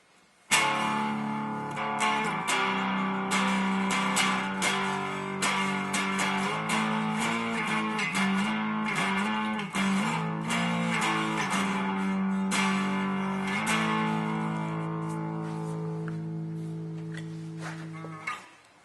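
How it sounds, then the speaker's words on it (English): An electric guitar through a T-Rex Engineering Magnus multi-effects pedal at a very low distortion setting plays a sustained riff with light, gritty overdrive, chords ringing steadily before slowly fading out at the end. "you can hear what this is going to sound like with a very low level of distortion on this pedal"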